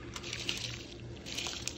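Soaked rice is tipped into a pot of water while making daal chawal at home. Faint wet squishes and small splashes sit over a low, steady background hum.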